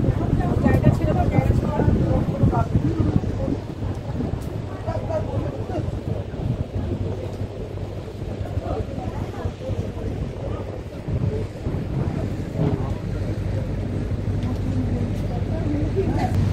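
A tourist motor launch on the river near Sajnekhali sanctuary in the Sundarbans churns along with a steady low engine rumble, water wash and wind buffeting the microphone, continuous and close throughout, with voices talking over it.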